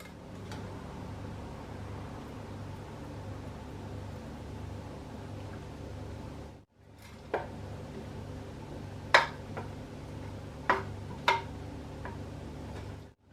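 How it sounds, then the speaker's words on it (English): Cheese being stirred into potato soup over low heat gives a faint, quiet background hum with a pause, then a few sharp, isolated clinks of a spoon against the pot, spaced a second or two apart. "Set the soup over a low heat and stir in the cheese."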